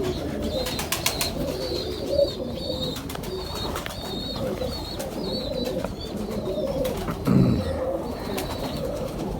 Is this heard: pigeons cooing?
yes